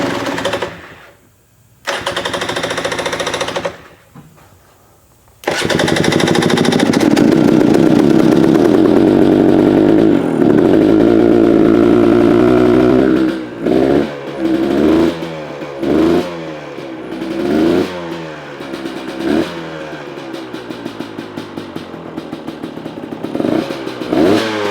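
A motorcycle fitted with an XTNG Gen3 Pro metering-rod carburetor, not run for about two months, cranks in short bursts, catches and idles loudly up close, then revs in repeated sharp throttle blips.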